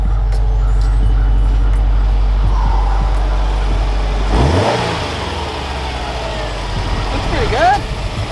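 A 2018 Subaru STI Type RA on air suspension pulls away, its engine note rising as it drives off, then fading into quieter road and ambient sound with a brief rev near the end; people talk faintly around it.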